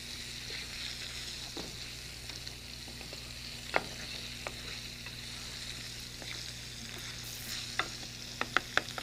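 Salt pork crisps up to a crunchy brown in a frying pan under a continuous soft sizzle, joined by a low steady hum and scattered light pops and ticks that cluster toward the end.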